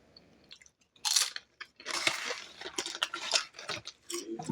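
Tangy Pickle flavored Doritos chips being crunched close up, a series of loud irregular bites and chewing bursts separated by short quiet gaps, with no talking.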